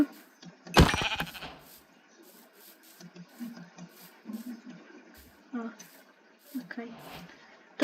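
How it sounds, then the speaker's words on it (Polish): Several short Minecraft sheep bleats scattered among a person talking nearby, with a sharp burst of noise near the start. "A, jakaś owieczka."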